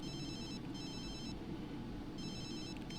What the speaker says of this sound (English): Doesn't even feel the desire to answer his phone